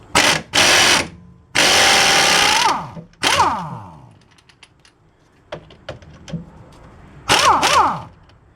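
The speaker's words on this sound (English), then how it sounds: "so let's use the impact wrench." A pneumatic impact wrench hammers a deep socket on a Chevy Impala sway bar link in several loud, rattling bursts, with shorter clicks and taps from the tools between them.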